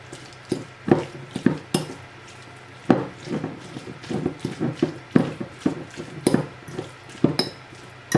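A spoon mixes tuna filling with black pepper and vinegar in a bowl, making irregular close clinks and knocks against the dish amid soft wet stirring, with no speech.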